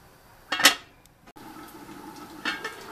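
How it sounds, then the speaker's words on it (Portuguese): A lid is set onto a cooking pot: a short metallic clatter, then a quieter clink, and later a soft rattle, close by and without talk. "Então vamos agora tampar a nossa panela e deixar ferventar."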